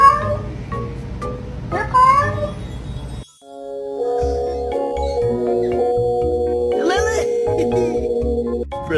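A house cat meows loudly and repeatedly at close range, with drawn-out, wavering cries over steady background music.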